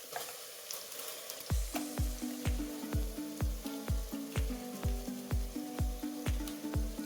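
Ground masala paste sautéed with soft onion and tomato in a pan, a steady sizzle broken by rhythmic scraping stirs, about two per second, close and clear with no voices.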